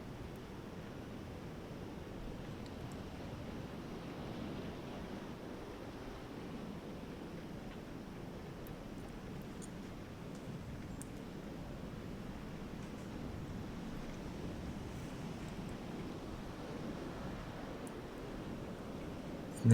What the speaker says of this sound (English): And this is Labrador Creek Rapids.